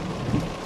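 Steady rain from a rain-wrapped storm near Merlin, Ontario, a brief wash of broadband hiss with a low rumble underneath.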